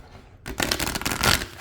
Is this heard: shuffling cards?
yes